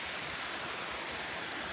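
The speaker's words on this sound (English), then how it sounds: "This is Billy's Creek Weir." Water pours over a creek weir at Billy's Creek, a steady, dense rushing roar with no breaks, filling the whole clip at close range.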